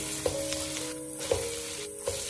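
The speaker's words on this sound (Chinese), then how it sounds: "接着把腊肉倒进去，快速的翻炒均匀" Cured pork being stir-fried in a hot wok, a steady loud sizzle with three brief scraping stirs spaced about a second apart, with no voices.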